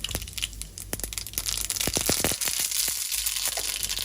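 Mustard seeds crackling and popping in hot oil while being tempered for dal, a dense run of sharp crackles and pops over steady sizzling, close and continuous.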